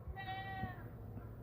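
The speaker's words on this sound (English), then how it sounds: "Uh-oh, goats coming along." Goats bleating in a farmyard near a freshly dug French drain trench, one wavering, harmonic bleat at moderate distance over a steady outdoor background hum, lasting about half the clip before fading.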